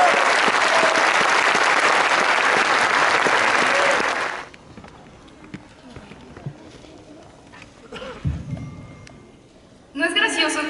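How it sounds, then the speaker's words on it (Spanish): A graduation audience for a civil engineering class applauds loudly for about four seconds, a dense wash of many clapping hands, then falls to a quiet room with scattered small sounds before a short burst of noise returns. "Por favor, recibamos con un fuerte aplauso."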